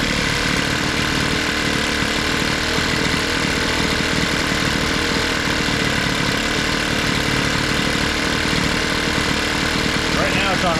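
A small two-stroke engine on a thrift store leaf blower idling on half choke, a steady buzzing drone that holds even and loud from start to finish.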